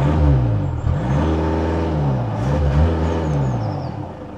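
A 2015 Skoda Superb 2.0 TDI sedan with 150 hp and front-wheel drive hums steadily from inside the cabin, with a low diesel drone and mild rises in engine pitch as it drives.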